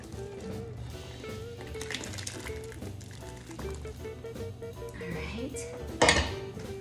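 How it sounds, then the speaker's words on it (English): Cream and potatoes for a chicken pot pie going into a bowl, with clinks of cutlery and dishware, soft wet squishing and pouring, and a louder clatter near the end, mostly under a nearby voice. "now I'm gonna put my cream and potatoes into my bowl"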